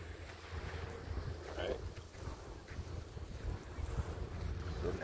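Speedboat engine droning past offshore at a beach, a steady low rumble mixed with wind buffeting the microphone and surf in the background.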